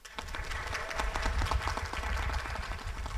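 Audience applause at a Black-owned bookstore community event greets a speaker, a steady dense patter of clapping that swells and holds at moderate loudness with no talk over it.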